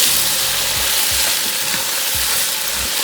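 A vegetarian biryani base being stirred in a pot, a steady loud sizzle with scraping spoon strokes repeating every half second or so, no voices.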